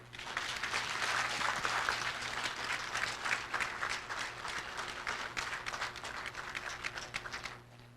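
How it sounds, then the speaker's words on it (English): A round of applause for the briefers at a Defense POW/MIA Accounting Agency event, a moderate audience clapping steadily for about seven seconds before tapering off, with no talking heard. "if I can have a round of applause for our briefers today"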